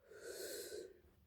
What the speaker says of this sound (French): Je baille